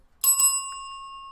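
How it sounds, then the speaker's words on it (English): A small bell rings during a sports trading card break, two quick bright strikes followed by a clear metallic ring that decays slowly, close and alone with no talking. "What's the bell doing over here?"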